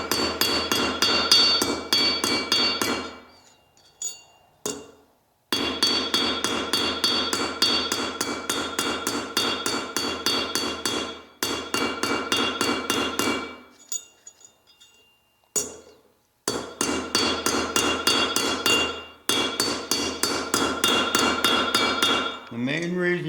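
A hammer strikes an 18k gold ingot in long runs of rapid, ringing metallic blows, close and loud, broken by brief pauses, with no talk.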